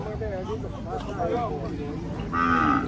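At a cattle and buffalo market at Ban Kut Wa in Kuchinarai district, Thailand, a cow gives a drawn-out moo close by, and someone talks over the busy market background.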